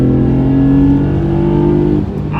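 A 2008 Honda Accord Coupe V6 with a manual gearbox revs hard toward 6,500 rpm, a loud, steady, climbing engine drone with strong harmonics that holds for about two seconds before easing off.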